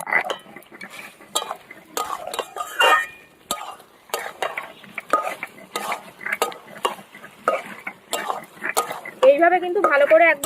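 Chicken sautéed and stirred with ground spices in a pan for a spring-onion chicken curry, with a steady sizzle and repeated scraping and stirring strokes, the utensil clinking against the pot, close and fairly loud, with a voice speaking now and then.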